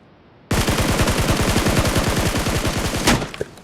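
Loud, close burst of rapid automatic gunfire in the mobile battle royale game BGMI, a steady stream of shots lasting about two and a half seconds before cutting off, followed by a couple of faint trailing clicks.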